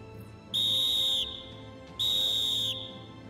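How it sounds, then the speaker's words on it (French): Warning whistle blasts signal an imminent well blasting: two shrill, sustained, evenly pitched blows, each nearly a second long and separated by a short pause, sounding loud and clear over quiet background hiss. "Avant la mise à feu, 4 coups de sifflet bref."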